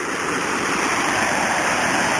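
A man-made waterfall with rapids on a creek trail gives a loud, steady, close roar of rushing water with no break and no voices.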